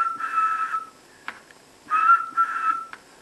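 A person whistles into a dynamic microphone feeding an op-amp amplifier: a steady held tone, a short break, then another long whistled note with a brief rising chirp, close and clear with no talk.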